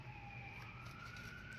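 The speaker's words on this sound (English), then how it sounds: "Sirens." Distant emergency vehicle sirens wail faintly and steadily, a thin rising tone drifting over a low background hum with no talking.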